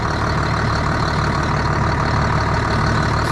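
A tractor engine runs at a steady idle, a continuous low rumbling drone with a constant hum and no voices, close and even throughout.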